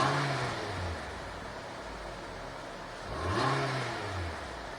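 A Nissan Altima with the 2.5 four-cylinder engine, fifth generation, revving twice on quick snap throttle blips, each rise and fall clear over a steady idle, recorded close by.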